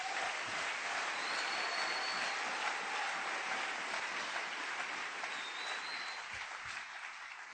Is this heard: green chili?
no